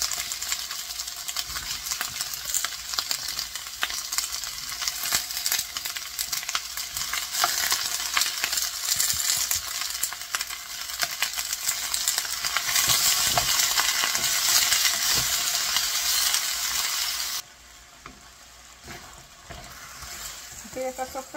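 Chile and tomato frying as sofrito in a pan give a steady bright sizzle with stirring scrapes and clinks, louder in the middle before dropping abruptly near the end, with a little talk.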